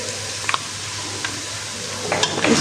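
White cumin seeds hit lightly fried onions in hot oil for a daal mash recipe, a faint steady sizzle with a few sharp ticks and spoon clinks near the end.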